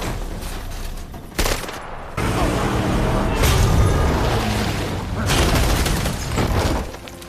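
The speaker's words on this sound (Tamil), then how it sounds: "துப்பாக்கி எடுத்து வானத்தை பார்த்து ஷூட் பண்ணி ஒரு சத்தத்தை ஏற்படுத்துறாரு" Gunshots fired into the sky in a James Bond action film, loud booming bursts and rapid volleys layered over a dense score and effects, continuing across several seconds.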